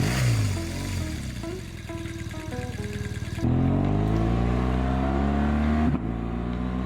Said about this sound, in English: let's switch gear to the BMW